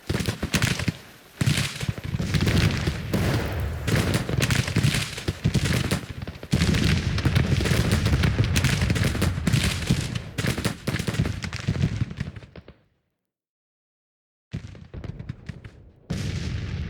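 Confederate artillery and massed firing in Grand Tactician: The Civil War, a long dense barrage of booms and crackling shots that stops abruptly into silence, then resumes in short bursts.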